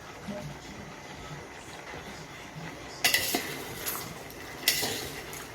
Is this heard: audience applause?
no